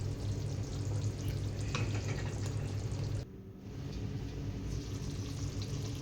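Brinjal and dried fish curry with tomato, onion, ginger and garlic bubbles and sizzles in a pan on the stove, a steady close frying hiss with one brief dip, no voices.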